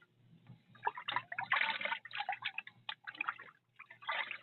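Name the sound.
tap water flowing from faucet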